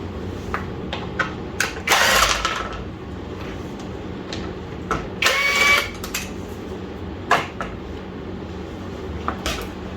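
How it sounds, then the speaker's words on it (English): Metal tools clank and scrape intermittently as an EGR pipe is worked loose from a 2.0 HDI 163 diesel engine (DW10CTED4) during a teardown, with a few sharp clatters over a low background hum. "And only now I will be able to remove that EGR pipe"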